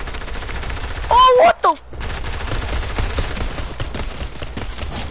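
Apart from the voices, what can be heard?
pistol gunfire in a video game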